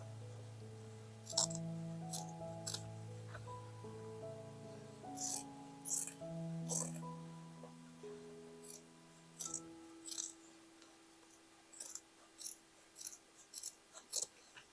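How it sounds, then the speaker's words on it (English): Scissors cut through denim jeans to remove the zipper section, a series of sharp snipping clicks and rattles that grow sparser toward the end, heard over soft background music. "I will cut the zipper part here"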